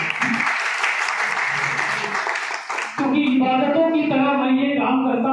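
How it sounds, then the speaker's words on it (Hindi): Applause from an audience at a police honour ceremony held on a stage, a dense wash of clapping that runs steadily for about three seconds before shifting into a brighter, more tonal sound with some voices. "जोरदार आपकी तालियों की गूंज होनी चाहिए"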